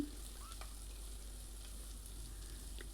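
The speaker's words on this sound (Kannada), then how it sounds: "ಎಣ್ಣೆನಲ್ಲಿ ನೋಡಿ ಕುಂಬಳಕಾಯಿ ಬಾಡಿಸ್ಕೊತಾ ಇದ್ದೀನಿ" Sweet pumpkin sautés in oil in a pan, giving a soft, even sizzle with a few faint stirring clicks, low in level.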